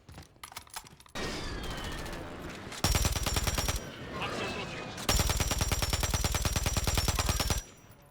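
Automatic gunfire in the video game Warzone, with long, loud, rapid bursts of machine-gun fire separated by quieter game ambience and a brief stretch of scattered shots.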